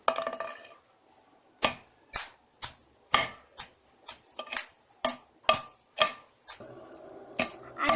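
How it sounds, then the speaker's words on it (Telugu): Tamarind, turmeric and other ivy gourd chutney ingredients get pounded in a mortar, making crisp, fairly regular thuds about twice a second, close and distinct, with no talk. "ఇప్పుడు దంచుదాం."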